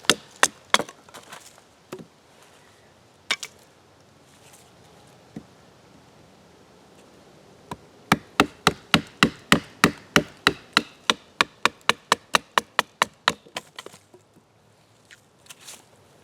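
A Bark River Aurora LT knife in Elmax steel chops through wet saplings outdoors: a few scattered strikes, then a long steady run of sharp, close woody chops in quick rhythm, trailing off into a handful of lighter knocks.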